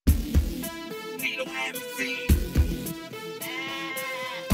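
Sheep bleating rhythmically within a hip-hop track, wavering animal cries repeating close and loud over a steady beat.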